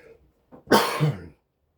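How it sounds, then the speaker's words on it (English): A single close, harsh cough follows a couple of faint throat sounds, in an otherwise quiet room. "I'm sorry for the coughing."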